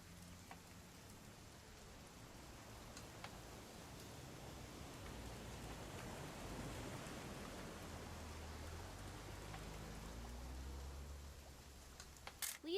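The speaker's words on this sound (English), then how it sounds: "It's gonna rain the whole weekend, isn't it?" Steady rain falls throughout a scene in the video game What Remains of Edith Finch, a dense even hiss of drops on surfaces, with a faint low rumble and a few sharp clicks near the end.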